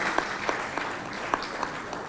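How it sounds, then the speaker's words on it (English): Anniversary media day audience giving themselves a round of applause, a light, sparse patter of claps with a few distinct slaps over a muffled room background. "Can we please give ourselves again a round of applause?"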